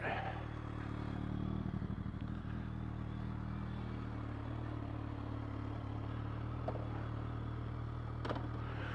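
A motorcycle engine runs close by as the bike sets off on a ride, a steady low rumble with a brief rough patch of revs early on and no talking.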